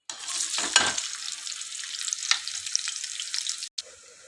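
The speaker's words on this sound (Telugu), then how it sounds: "ఆనియన్స్ మంచిగా ఫ్రై అయిపోయినాయి." Onions hit hot oil in a pan, giving a bright, continuous sizzle close up, with a brief stirring clatter near the start before the frying cuts off abruptly near the end.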